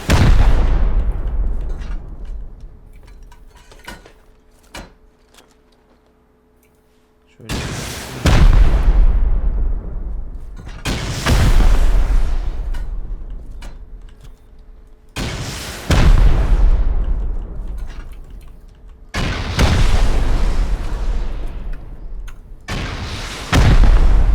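Rocket explosions hit a base during a raid in the game Rust, one heavy boom after another at a steady pace of roughly four seconds, each a loud broadband blast that decays into rumbling debris, with a short quieter gap partway through.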